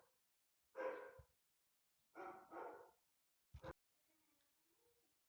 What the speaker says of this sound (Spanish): comenzaron a ladrar unos perros